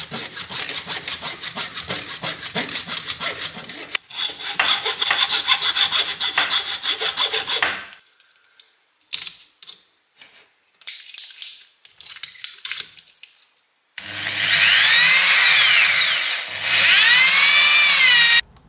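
Cutting the secondary winding out of a transformer for a homemade spot welder produces rhythmic sawing and scraping strokes in two long bursts. Scattered short rubbing scrapes follow, then a loud, steady high-pitched tool whine with a brief pause.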